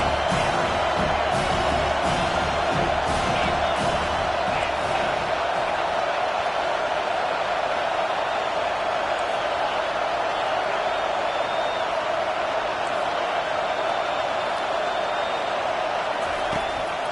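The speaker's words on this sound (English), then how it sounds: "Here comes this home crowd as the defense tries to get off the field on third down." A home football crowd roars steadily through a third-down defensive stand, a loud, sustained wash of cheering with a few sharp claps and whoops rising early.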